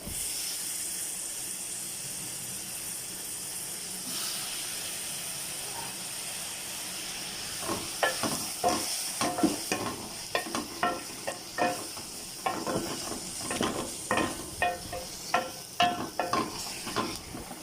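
Tomatoes hit a pan of frying garlic, where a quiet hiss gives way to a louder steaming sizzle. Rapid rhythmic spatula clatters and scrapes follow through the second half, close by, with no speech.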